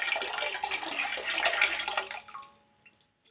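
Liquid germinator, 100 ml, being poured and mixed into 4 litres of water, a close splashing and trickling that fades out into near silence.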